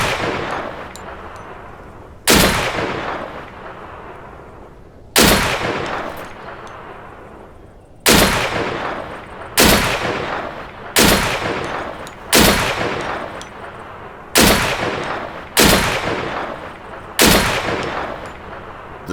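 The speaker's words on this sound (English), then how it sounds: "The VSD, most powerful gun in the game by far." Single heavy shots from a VSD rifle in the survival shooter Deadside ring out one at a time, about ten loud sharp cracks, each trailing a long echoing decay, spaced irregularly with quicker follow-ups toward the end.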